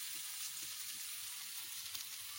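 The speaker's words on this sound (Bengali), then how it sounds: "দেখো কত সুন্দর করে কুন্দরু ভাজা করে নিচ্ছে" Ivy gourd (kundru) fries in a pan with a soft, steady sizzle that stays quiet and even throughout, with no talking.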